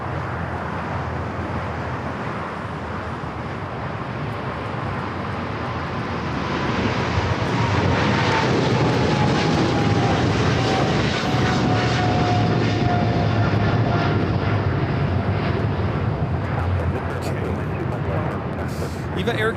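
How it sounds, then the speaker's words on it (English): An EVA Air Cargo Boeing 777 freighter takes off from runway 25 Left at LAX, its jet engines roaring loudly and building into a sustained rumble that persists to the end, with a commentator talking over it. "EVA Air Cargo 621 taking off to Taipei on the 777 freighter."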